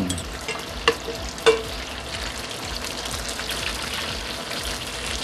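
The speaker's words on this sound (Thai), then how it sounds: "เปิดไฟเรียบร้อยผมใส่น้ำมันครับสำหรับที่เราจะผัดพวกเครื่องหอมของเราคือ รากผักชีกระเทียม" Coriander root and garlic stir-fry in oil in a pot, a steady close crackling sizzle with a couple of sharp clinks of the utensil near the start.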